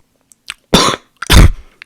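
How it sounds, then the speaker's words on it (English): Two sharp, loud coughs close to the listener, separated by a short pause, with a few faint breaths around them. "I hate my cough right now"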